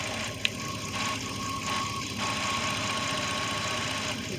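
A 2003 Jeep engine runs at a steady idle after a radiator replacement, a low continuous hum with faint mechanical ticking, heard from nearby with a single small click early on.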